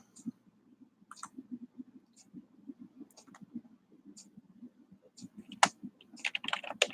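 Computer keyboard typing in a quiet room: irregular bursts of light key clicks, fairly close, with a few louder taps and a denser flurry of keystrokes toward the end; no talking.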